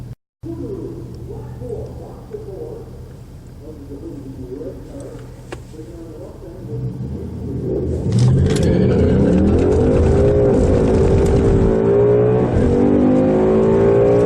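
A 2019 Mustang GT launches at a Friday-night drag strip with wheel hop: a muffled engine idles under faint voices, then surges into a loud, sustained, rising roar of hard acceleration.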